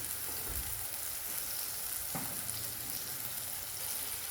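Steady, close sizzling of ghee frying in a hot pan with tomatoes, a continuous crackling hiss with a few faint clinks.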